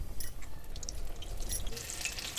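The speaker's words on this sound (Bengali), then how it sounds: "আবার আমি লঙ্কা দিয়ে দিচ্ছি তেলে এইভাবে।" Green chilli pakoras deep-frying in hot oil, a continuous bubbling sizzle with brighter spattering bursts, close and steady throughout with no one talking.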